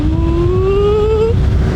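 An ONYX RCR 80V electric motorbike pulls away under throttle with a loud, rising electric whine that climbs steadily in pitch for about a second before easing off over steady wind and road rumble.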